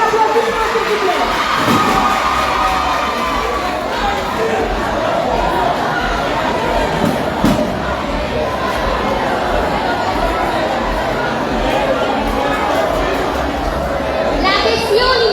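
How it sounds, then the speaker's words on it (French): A school audience applauds and cheers at the Génie des Experts quiz final in Limonade, Adventist school versus Bon Berger school, a dense, steady roar of clapping, shouts and children's chatter throughout. "Sur votre applaudissement, s'il vous plaît."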